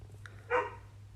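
A pet dog gives a single short, sharp bark indoors, fairly close and clear against a quiet room hum.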